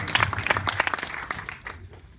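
Audience applause at a film Q&A, a brief burst of scattered clapping that thins out and fades within two seconds.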